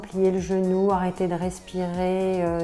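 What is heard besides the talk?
None of the usual background noises is heard.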